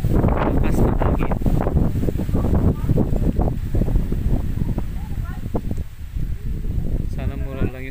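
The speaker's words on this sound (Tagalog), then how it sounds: "Lakas ng hangin." Strong wind buffets the microphone in loud, rumbling gusts outside a mansion in Oriental Mindoro, with people talking underneath throughout.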